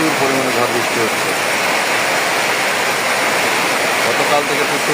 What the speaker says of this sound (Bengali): এই দেখেন কি পরিমাণ বাতাস